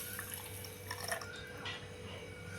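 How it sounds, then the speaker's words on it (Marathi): Half a cup of water poured into a pan of sugar and ghee for a sweet semolina snack, a soft close trickle and splash with faint drips, quiet and brief. "आणि ह्यामध्ये ह्याच वाटीनं अर्धी वाटी पाणी टाकून घेऊया."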